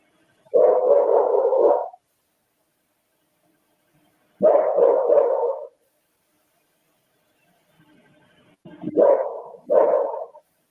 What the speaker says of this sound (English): do you hear that dog barking?